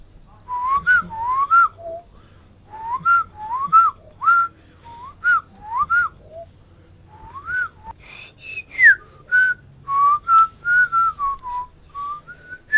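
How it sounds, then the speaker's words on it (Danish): A person arm-whistles a tune from a song, a run of close, clear melodic toots in short phrases with brief pauses between them. "jeg kan fløjte ud af armen"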